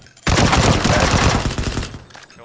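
Loud, sustained burst of automatic gunfire in a PUBG match, rapid shots rattling close for about two seconds before easing off, with no talking.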